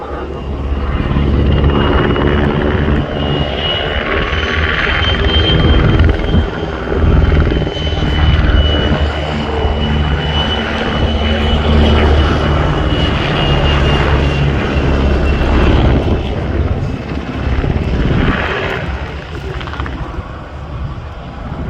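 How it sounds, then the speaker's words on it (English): A pair of PZL W-3A Sokol twin-engine helicopters roar loudly and continuously at the RIAT 2025 airshow, rotors thudding and engines whining in a steady drone that swells and eases slightly as they fly. "a medium-sized, twin-engine, multi-purpose helicopter"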